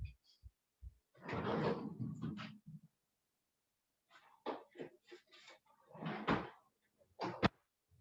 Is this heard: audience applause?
no